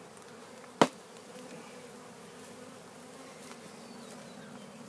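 A big bee swarm on a cedar tree gives off a steady, low, continuous buzz, with one sharp click near the start.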